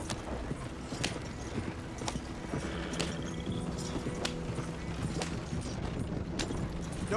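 Horse hooves clip-clop at a steady trotting rhythm while riding in Red Dead Redemption 2, close and clear over a continuous low outdoor background.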